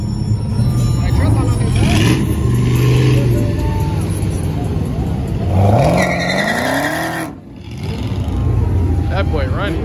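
A car revs hard at a crowded car meet, its engine roaring and rising in pitch with tire squeal suggesting a burnout, loud and continuous under constant crowd noise and people talking nearby.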